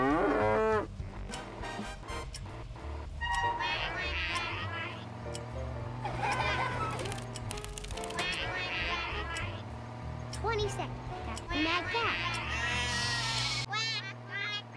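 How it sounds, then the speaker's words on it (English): Cartoonish cow moos and farm-animal calls from the Pigeon Presents Mo On the Go app game, mixed with bright game music and sound effects that continue throughout. "Watch out for the mad cow."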